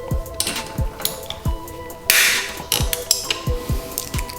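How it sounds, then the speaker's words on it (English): Four 8mm bolts being removed from a bracket on a 2020 Yamaha MT-09 during a fender eliminator install, heard as sharp metallic taps and clicks of tools on metal, close and irregular, with a brief rushing burst midway. "we're going to remove this bracket by removing these 4 8mm bolts."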